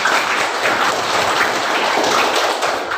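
An audience applauds after a group presentation in a university teacher-training class, a dense, steady patter of many hands clapping close by that holds evenly throughout with no talk over it.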